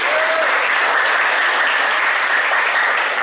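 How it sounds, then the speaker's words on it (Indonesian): A classroom of students applauds a presenting group, loud, dense clapping from many hands held steady from start to finish, close and continuous with no talking. "Beri aplaus untuk kelompok 1"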